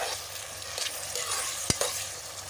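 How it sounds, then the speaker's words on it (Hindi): Chopped tomatoes drop into onions frying in a pan for a bhindi dish: a steady sizzle runs throughout, broken by one sharp splash-like hit partway through, with no talking. "अभी डालेंगे टमाटर"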